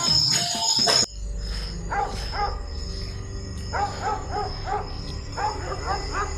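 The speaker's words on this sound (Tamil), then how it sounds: "இந்த நாய் எதுக்கு கத்திட்டே இருக்கு?" A farm dog barks repeatedly in short clusters of yips and barks, fairly close and clear. Steady insect chirping and a low hum run underneath, and a brief louder burst of mixed noise opens the moment.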